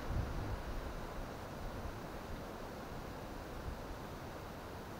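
Steady wind rushing across the microphone beside the Uda River, a broad continuous roar with gentle gusts and no other distinct sounds.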